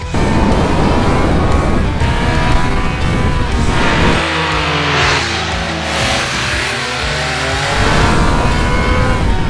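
A Triumph Speed Triple RS 1200 sport motorcycle engine roars and revs up continuously, loud and close, with rising pitch as it accelerates and some wind rush.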